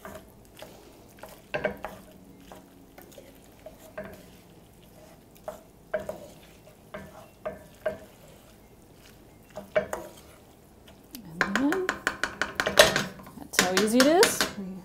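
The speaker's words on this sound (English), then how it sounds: "Stir that all together." Grated Parmesan mixture stirred in a skillet, sparse clinks and scrapes of a utensil against the pan with a soft sizzle, quiet at first and busier toward the end, with music rising in the last few seconds.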